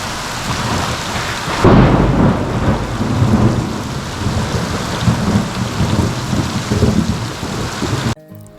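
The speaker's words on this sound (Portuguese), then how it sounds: "já faz uns 3 dias que chove. Todo dia dá uma chuva boa" Heavy rain falling on a rural property during days of steady showers, a dense hiss with a loud rolling thunderclap near the start and rumbling through the rest, close and continuous, ending abruptly.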